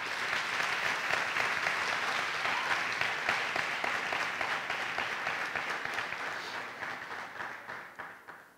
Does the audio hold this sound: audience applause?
yes